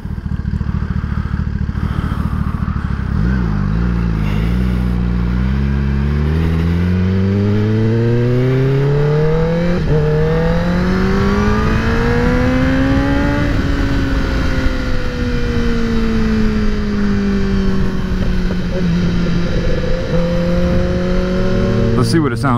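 A 2021 Kawasaki ZX10R motorcycle pulls hard under riding, its engine note climbing through the gears with repeated rising sweeps, loud and close with steady wind noise behind it and a voice now and then.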